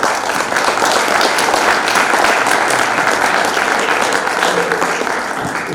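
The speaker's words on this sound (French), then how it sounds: "Shahrazad Rizk, que nous applaudissons encore une fois" A dinner audience at a recital in the Automobile Club de France bursts into sustained, dense applause, a steady loud wash of many hands clapping with faint murmurs underneath.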